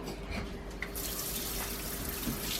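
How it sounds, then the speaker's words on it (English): Tap water runs into a sink during handwashing, a soft, steady splash that grows brighter and fuller partway through, fairly quiet and without talking. "let's wash your hands here"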